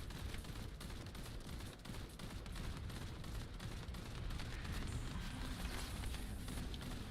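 Rapid video game gunfire rattles almost without pause during a fight against the executioner, a dense, continuous stream of shots heard fairly faintly throughout.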